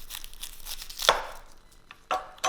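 Kitchen knife slicing the root end off an onion, a sharp crisp cut followed by a few soft slicing and handling sounds, close and alone.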